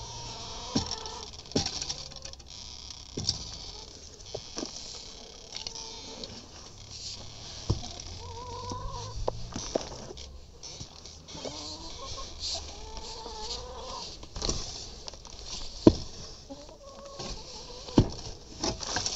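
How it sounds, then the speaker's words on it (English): Chickens cluck softly here and there in a quiet outdoor setting, with scattered scratching and light tapping sounds. "All the chickens are so happy out here."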